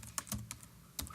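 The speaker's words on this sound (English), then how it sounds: "we can actually start typing in chats to see if it's working" Quiet, close computer keyboard typing, with irregular clicks and taps over a low room hum and no talking.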